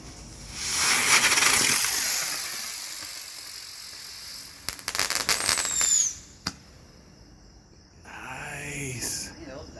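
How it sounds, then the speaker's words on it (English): Red Lantern Buzzard Bomb helicopter spinner fireworks go off with a loud hissing whoosh, then a burst of crackling pops and a rising whistle, and a second spinner's hiss follows near the end. "About to try out these Buzzard bombs by Latern. Little spinner novelty."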